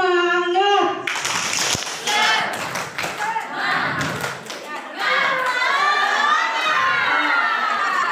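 Audience at a school curriculum workshop doing a rhythmic spirit clap, a burst of crowd claps and shouts that rises after a brief voice, with cheering voices continuing over the clapping.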